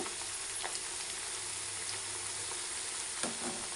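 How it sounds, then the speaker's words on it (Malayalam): Bitter gourd (pavakka) pieces frying in hot oil and being turned, a steady close sizzle with a few soft scraping stirs, no talking. "പാവയ്ക്ക എണ്ണയിലേക്ക് ഇട്ട് കൊടുത്തതിന് ശേഷം തിരിച്ചും മറിച്ചും ഇട്ട് കൊടുത്തിട്ട് വേണം കുക്ക് ചെയ്തെടുക്കാനായിട്ട്"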